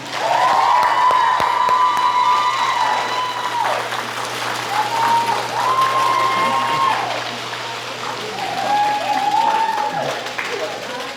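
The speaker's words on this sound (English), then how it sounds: "please give a loud applause to Miss Megan Crosby" At a school transportation awards banquet, a crowd applauds the Director's Cup winner, sustained clapping heard alongside cheering voices and a steady low hum in the hall.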